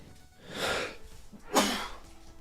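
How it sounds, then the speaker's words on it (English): Two sneezes from a person, a softer breathy one followed about a second later by a sharper, louder burst, with quiet surroundings. "I'm gonna sneeze."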